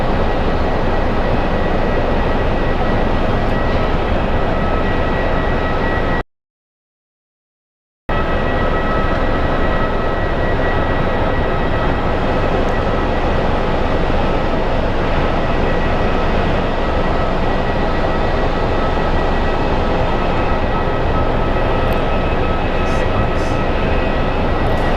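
A Southwest Airlines jet at Phoenix Sky Harbor airport gives off a steady, loud broadband roar of engine noise that runs the whole time with one brief dropout, and no talk is heard.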